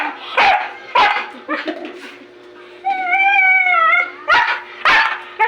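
A dog barks repeatedly in sharp, loud bursts, with a drawn-out whining howl in the middle before more close barks.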